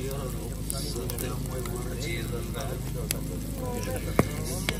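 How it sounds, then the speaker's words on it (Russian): Food frying in butter in a pan, a steady broadband sizzle with scattered small pops and crackles running throughout, close and continuous. "Разжариваем на сливочном масле."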